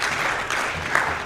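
Audience clapping at a Plan International Ghana event honoring the Ashaiman Municipal Assembly, a brief steady wash of many hands at moderate volume with no speech over it.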